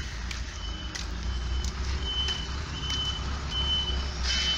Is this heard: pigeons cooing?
no